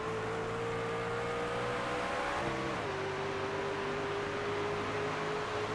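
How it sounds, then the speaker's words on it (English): A race car engine in an online sim racing league race holds a steady, loud droning tone, then briefly dips and climbs as the driver shifts gears partway through, with the engine continuing strongly to the end, no talking. "You hear Mark Pentecoff is shifting in turns 1 and 2 and 3 and 4"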